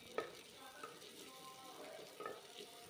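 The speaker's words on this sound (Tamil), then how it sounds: "வெங்காயம் நல்லா வதங்கட்டும்." Small onions with curry leaves and a dried red chilli sizzle softly in hot oil for an Erode-style mutton kulambu, a faint steady frying hiss with light stirring touches.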